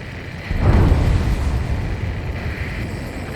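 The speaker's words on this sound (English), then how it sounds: "A huge explosion just went off underwater." A huge underwater explosion in the Ace Combat 7 video game goes off as a sudden deep boom, then rolls on as a loud, sustained low rumble.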